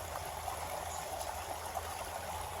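A shallow stream trickles and burbles steadily, a soft continuous wash of flowing water with no voices.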